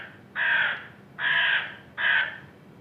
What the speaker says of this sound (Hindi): मैं एक बार आप लोगों के लिए प्ले करना चाहूँगी किस तरह की आवाज़ होती है